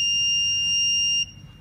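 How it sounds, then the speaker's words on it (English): A light-triggered electronic buzzer emits a loud, piercing continuous tone for just over a second, then cuts off abruptly, leaving faint background noise. "and the buzzer sounds."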